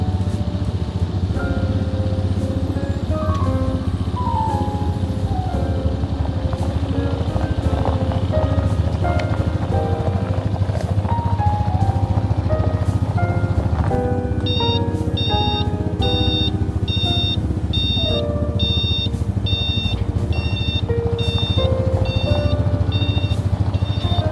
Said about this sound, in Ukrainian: Пускаю щеплення і він їде.